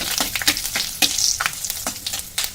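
Whole spices (bay leaves, cardamom, cloves, chillies, cinnamon pieces, mace and cumin seeds) crackling in hot oil for chicken changezi, a steady close sizzle broken by sharp pops and spatters, with no talk.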